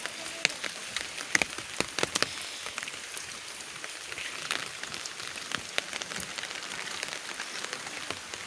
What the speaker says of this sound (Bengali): তো এখনও বৃষ্টি থামেনি